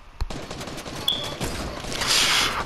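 In the Fortnite video game, a volley of gunfire erupts with a sharp crack and then a dense, continuous rattle of shots and debris that grows louder toward the end.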